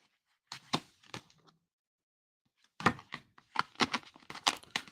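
Tarot cards from a deck are shuffled close by in two soft bursts of quick flicking and riffling, separated by a silent pause, with the second burst longer.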